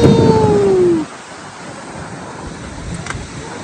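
Water thunders steadily at an Icelandic waterfall, seen from a path leading behind the falls, a broad continuous roar mixed with wind buffeting. A brief falling tonal sweep opens the sound before it settles into an even wash.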